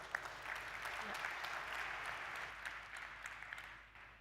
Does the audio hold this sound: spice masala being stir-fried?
no